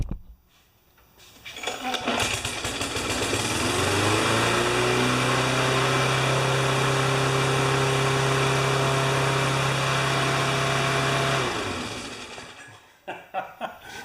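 A Yard Pro lawn mower's small Briggs engine roars up and holds a high, steady revving whine for several seconds, then cuts back down and stops.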